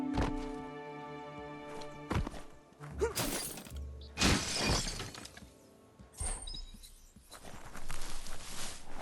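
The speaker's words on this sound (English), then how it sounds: "You shouldn't worry about smashing up the box" A box gets smashed apart in the Biomutant video game, with several sharp shattering, breaking crashes and thuds in separate bursts, close and loud.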